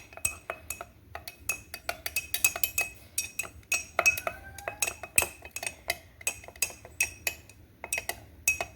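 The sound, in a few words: stirring rehydrated sourdough starter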